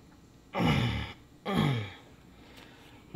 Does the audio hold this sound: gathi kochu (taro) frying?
no